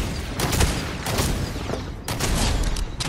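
Gunfire in the Fortnite video game, three loud bursts of rapid shots in quick succession, close and dominant with no talk over them.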